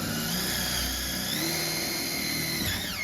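A battery-powered drill whines steadily as it bores an extra hole in a workpiece so a saw blade will fit, loud and close, with a continuous pitched motor drone that shifts slightly in tone.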